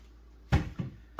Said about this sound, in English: we flip that lever, we can pull the drawer right out.